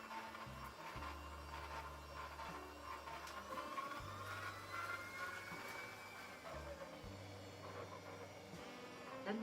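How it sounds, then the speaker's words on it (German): An electric hand mixer beats egg yolks with sugar for a dessert, giving a steady low motor drone with pulsing changes in pitch as the speed shifts, close and continuous with no talking. "Dann den Mixer auf die niedrigste Stufe runterdrehen"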